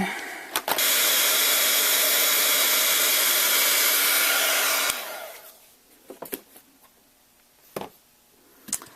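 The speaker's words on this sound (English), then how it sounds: "go ahead with your heat tool and melt that on in" A heat tool blows steadily for about four seconds, melting embossing powder on a card, a loud continuous hot-air whoosh that then cuts off, followed by a few light taps and handling sounds.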